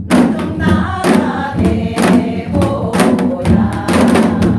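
A janggu drum beats out a rhythm for a song, loud and close, with regular deep thumps and sharp stick strikes repeating in an even pattern and no talk over it.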